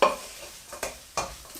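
Onions soften in a pan for a venison curry, a faint sizzle beneath a few soft stirring scrapes, with three brief strokes spaced across the moment.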